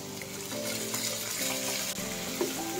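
Chopped tomatoes and garlic sizzle in a frying pan for a stir-fry, a steady close crackling hiss with faint stirring and no talk.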